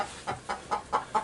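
A hen laying in a large poultry coop clucks in a steady rhythm, five short, moderately loud clucks spaced evenly apart with nothing else in the background.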